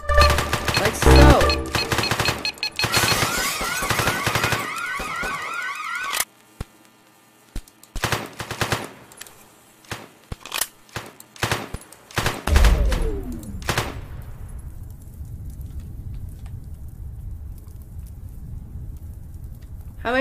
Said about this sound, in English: Run to the front and start shooting everything.